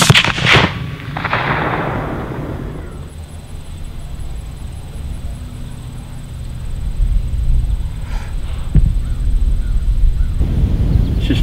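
A loud rifle shot rings out at a groundhog in an open field, then a long decaying rumble and echo follows, with faint later noises and no talking.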